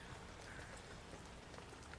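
Steady rain falls in the Resident Evil 9 video game, a soft continuous hiss of drops with no talk over it, quiet and even throughout.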